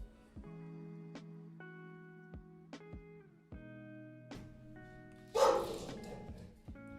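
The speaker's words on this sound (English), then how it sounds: "My dog just comes in and barking." A pet dog barks indoors in several sharp, spaced yelps over a steady background tone, with a louder, noisier burst near the end.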